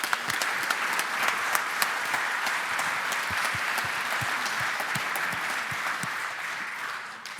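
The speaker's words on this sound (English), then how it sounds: "So the final round of applause," A lecture audience at a Holocaust memorial lecture gives a sustained round of applause, many hands clapping in a dense, even wash that holds steady for several seconds before tapering slightly at the end.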